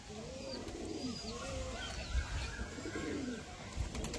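Madras loft pigeons coo nearby in soft, low, repeated rolling calls, with a few faint higher chirps and a couple of dull thumps.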